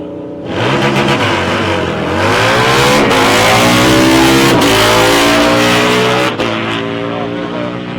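A drag racing car at the South Coast Nationals thunders down the strip on a quarter-mile qualifying pass, a loud rising roar climbing through gears then fading, with announcer commentary running over it.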